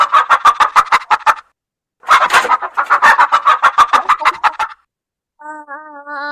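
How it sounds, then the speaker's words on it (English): A hen clucks in quick, close bursts of sharp, evenly spaced clucks, with two runs separated by a short pause and a brief tonal call at the end. "It's a hen."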